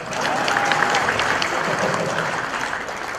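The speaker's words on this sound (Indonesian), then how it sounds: "Tepuk tangan buat saya." A crowd applauds a stand-up comedian at an Indonesian comedy show, steady sustained clapping filling the room at a constant level, with a faint voice and a brief tone rising through it.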